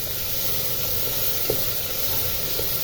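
Tomato and onion sautéing with salt in a pan give off a steady, close hiss of sizzling steam that runs evenly throughout, with a few faint soft pops.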